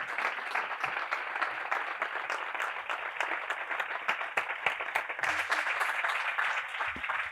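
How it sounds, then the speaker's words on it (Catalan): An audience applauds Jordi Gené at a Growth Mornings talk, with sustained dense clapping for several seconds that swells slightly near the end. "demanem un fort aplaudiment per en Jordi Jané"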